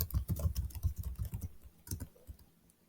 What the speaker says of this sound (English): let's go ahead and type in x-ray here